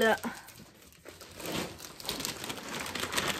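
Plastic crinkles and rustles steadily up close, with a brief voice at the very start.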